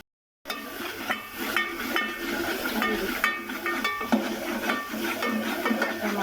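Tomato masala with red chilli cooking in a pan, a steady hissing simmer broken by repeated clinks and scrapes of a spoon being stirred, close and moderately quiet.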